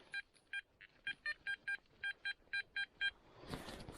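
A Garrett Ace Apex metal detector gives a rapid series of about a dozen short, evenly spaced electronic beeps, clear and close, followed by a rustle of handling noise.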